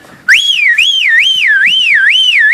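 Whistling voice imitating a car alarm, a loud, close warbling siren that rises and falls in a steady repeating cycle, starting abruptly and holding on for a couple of seconds.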